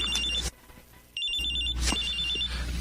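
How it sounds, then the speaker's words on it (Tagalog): A cellphone rings with a trilling electronic tone in repeated bursts, loud and near, with a short pause between rings and no speech. "May tumatawag sa cellphone ko."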